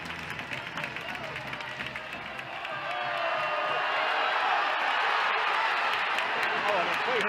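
Ice hockey arena crowd at a Fife Flyers game, a broad roar of jeers and shouting that swells from moderate to loud around three seconds and holds, with scattered whoops over the din.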